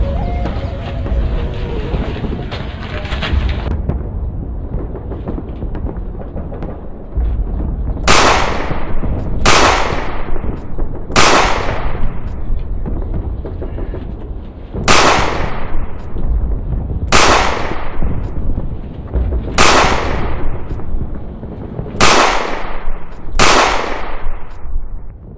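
Dutch soldiers fire rifles in a short war film set in 1946 Bandung, about nine sharp, loud shots spaced a second or two apart over a rumbling background.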